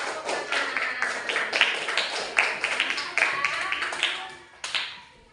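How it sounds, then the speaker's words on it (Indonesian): Students in a classroom perform a short 'tepuk hebat' clapping routine for a classmate, rhythmic bursts of claps at close range with voices mixed in. "Tepuk hebat dulu buat Ridho"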